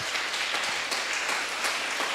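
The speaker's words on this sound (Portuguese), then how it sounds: "Então dê uma linda salva de palmas para Jesus." Steady church congregation applause fills the whole stretch, a dense wash of many hands clapping at once with no voices standing out.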